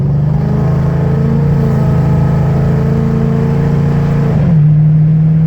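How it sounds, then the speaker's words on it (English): A drag-prepared Ford Mustang's engine holds a loud, droning rev at partial throttle, close and steady, then drops pitch briefly as it shifts gear near the end, with no talking. "we're going to show you how it shifts at partial throttle"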